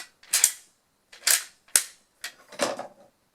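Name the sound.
WWII clicker clicking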